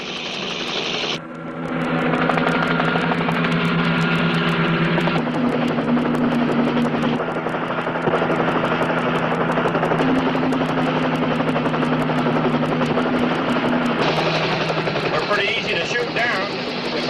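A highway patrol helicopter drones loudly and steadily overhead during a chase, its rotor hum holding under the whole stretch with brief shifts in pitch.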